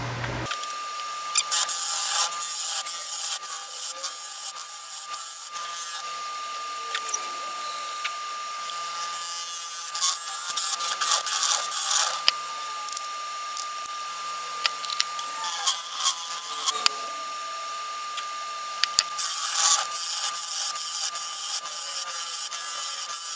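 Turning tool scraping and cutting inside a cherry wood vase being hollowed on a lathe, a steady continuous whir with rough scraping bursts close up, no talking.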